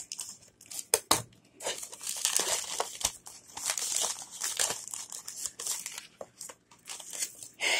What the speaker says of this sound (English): I'm just going to take my handy dandy scissors here and snip off the top